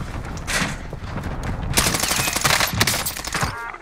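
Dense gunfire in the Call of Duty Modern Warfare video game, with sustained automatic bursts and scattered heavier cracks rolling over a continuous noisy battle din for several seconds.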